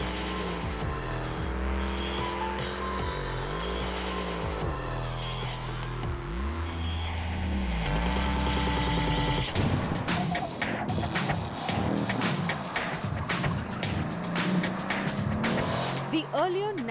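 A Mercedes-AMG C63 S V8 runs hard on a race track: engine revs rise and fall through repeated gear changes, then tyre squeal and rougher engine noise take over in the second half, with loud, continuous car sound throughout.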